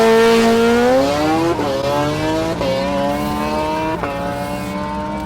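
An old Toyota Prius launches hard down a drag strip, with a loud, close engine whine that climbs in pitch. It breaks into a few stepped shifts and carries on with a sustained drone.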